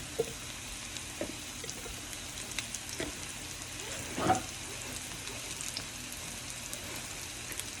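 Wild mushrooms fry in a pan for risotto, giving off a faint, steady sizzle with an occasional soft pop and no voices.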